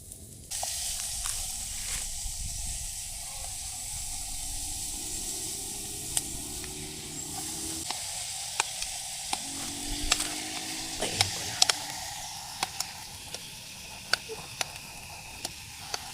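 Food sizzling and hissing steadily while being sautéed outdoors near a lake, close and continuous, with occasional clicks and scrapes of stirring on top of the sizzle.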